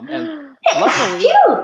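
A woman sneezes loudly and sharply once, close by, then a gasping exhale follows, with people talking just before and after.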